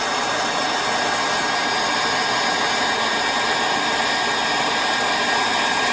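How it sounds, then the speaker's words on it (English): A heat gun blasts hot air onto buttered bread to toast it, a loud, continuous close-up roar of blowing air with no pauses. "5 second toast. Heat gun."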